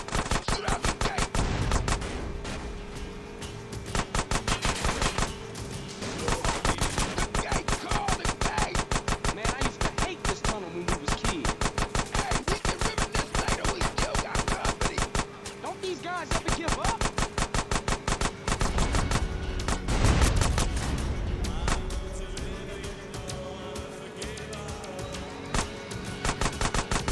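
Rapid, loud bursts of automatic gunfire hammer on almost continuously in a Grand Theft Auto: San Andreas shootout at a gate, with brief pauses between long strings of shots and a heavy thump near the end.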